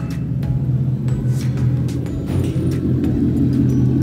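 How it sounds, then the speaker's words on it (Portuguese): A Ford Mustang's engine rumbles steadily, a deep continuous low drone at constant level with no clear revving, close and alone without voices. "O barulho atrás desse carro é fora do comum"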